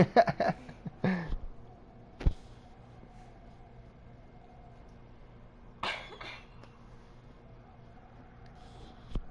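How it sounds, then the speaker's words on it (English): A few harsh coughs, a quick cluster at first and then two more spaced out, close by against a quiet background hum. "Everyone's gonna know now you got like a shitty cough."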